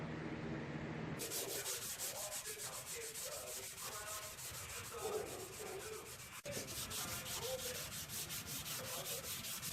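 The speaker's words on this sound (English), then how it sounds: "And this stuff is really easy to sand off too. I'll probably just use like a 320 on it" Sandpaper of 320 grit rubbing glazing putty off the body of an AE86 project car, a steady close scratchy scrubbing that runs continuously with rhythmic strokes, no talking.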